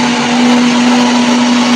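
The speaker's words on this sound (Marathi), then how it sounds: "आमच्या मिक्सरचा आवाज जरा हेलिकॉप्टर सारखा येतो" A household mixer grinder whirs loud and close while grinding coconut chutney, a steady high droning whine with no pauses.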